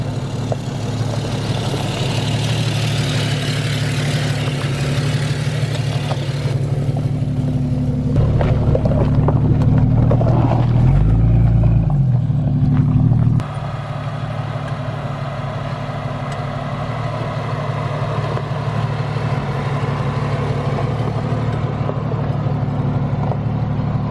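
Steady engine drone of a cheap old Jeep idling and rolling slowly along an off-road trail, loud and continuous with a brief surge in revs partway through and no talking.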